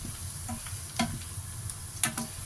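Chinese sausage frying in a pan, a steady low sizzle of hot oil with occasional small crackles and pops, close and fairly quiet.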